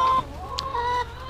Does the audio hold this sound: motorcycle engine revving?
no